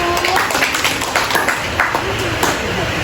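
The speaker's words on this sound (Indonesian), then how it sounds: "Pintar-pintar semua, tepuk tangan dulu." Children clap their hands together in a short, lively burst of scattered, overlapping claps in a room, with faint voices mixed in.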